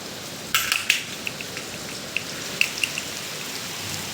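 Rain falls steadily outside with a constant soft hiss, and a few louder drips land close by now and then. No one speaks.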